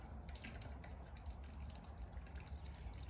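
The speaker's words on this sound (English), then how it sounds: "pour off the good distilled water off the top" Distilled water pours from a container in a home garage, a steady soft trickle and gurgle that runs continuously at low volume, with no speech.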